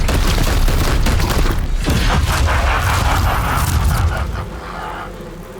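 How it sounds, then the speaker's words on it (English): Loud, dense burst of gunfire and impacts from the video game Chaos Gate Daemonhunter, a continuous barrage of shots and crashes that eases off near the end. "Opening fire!"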